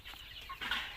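Sonali chickens on a poultry farm give brief, soft clucks and a short chirp, faint and close, with no talk over them.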